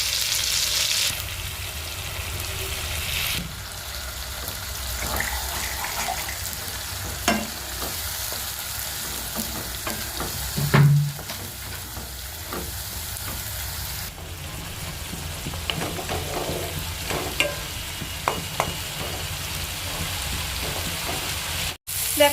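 Onion paste frying in a pan for a Bengali fish curry with bhetki, a steady broad sizzle under frequent scraping stirs and occasional clinks, close and fairly loud, with no voices.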